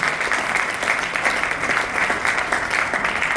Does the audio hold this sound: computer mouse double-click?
no